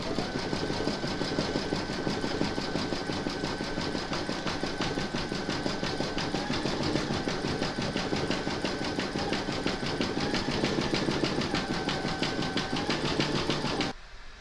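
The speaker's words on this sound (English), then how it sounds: "you're going to stitch round number 7" Embroidery machine satin stitching round a floral coaster frame in royal purple thread, a steady, dense mechanical whirr running continuously at close range before cutting off near the end.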